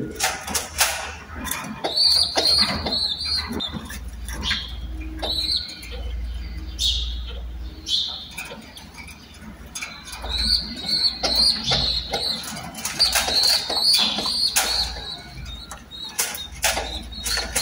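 Pigeon chicks on a rooftop loft call for food from their mother, giving repeated high, thin cheeps in short bursts. Wing flaps and scuffling sound in between, close by.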